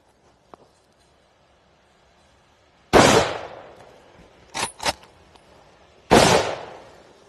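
A young hunter fires a carbine fitted with a sound moderator: after a faint tick, a sharp muffled report with a decaying tail, a quick double clatter, then a second identical shot, outdoors and close, no talking.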